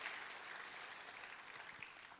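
A church congregation applauds, a soft, even wash of clapping hands heard from a distance and held steady for a couple of seconds.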